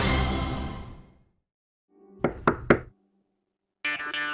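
Three quick knocks on a door, close and distinct, land in a gap between louder surrounding sounds from a Tamil television drama scene.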